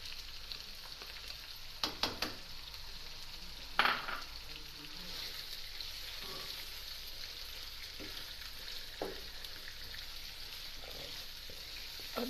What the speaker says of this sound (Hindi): अब इसको हल्का सा फ्राई करते हैं, बाद में मसाले डालेंगे।